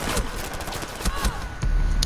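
Rapid gunfire crackles in the tactical shooter game Rainbow Six Siege, with dense overlapping shots and thuds in bursts, loud and close throughout, heavier near the end.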